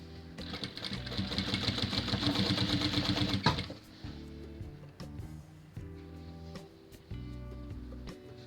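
A sewing machine runs steadily for about three and a half seconds, stitching bias binding onto the edge of a pocket for a baby blanket, then stops and resumes in short bursts, loud and close.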